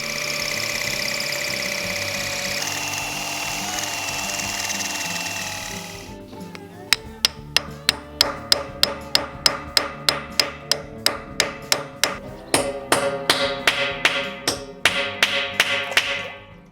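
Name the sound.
drilling a hole in concrete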